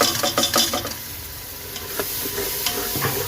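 Tomato and green chilli paste masala for an aloo baingan sabzi fries in a pan, a close, steady sizzle broken by quick scraping stirs at the start, with no one speaking.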